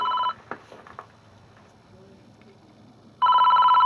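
An office desk telephone rings in loud electronic bursts, one at the start and another near the end, with a quiet gap of faint room noise between them.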